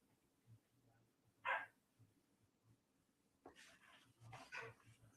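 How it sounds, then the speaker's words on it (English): A faint dog barks in the background, first with a single yip and then with a short cluster of barks, set low under a quiet room hum. "I got my dog barking in the background"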